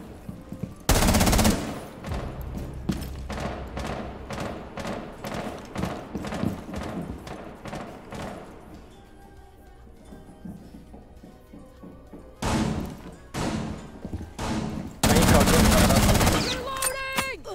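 Shotgun gunfire in Rainbow Six Siege, with bursts of loud blasts and rapid shots in clusters, mixed with game noise while players talk over the action.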